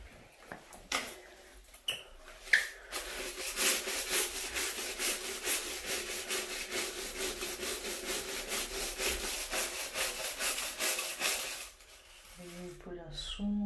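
A stiff brush scrubs a plastic shower floor mat in fast back-and-forth strokes, a loud continuous scratchy rasp lasting about ten seconds, with brief voices before and after.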